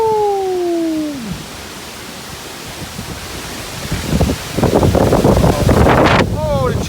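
Strong gusts from Tropical Storm Isaias buffet the microphone outdoors in a loud, roaring rush that swells and surges. A whistling tone fades early, and voices come through over the wind near the end.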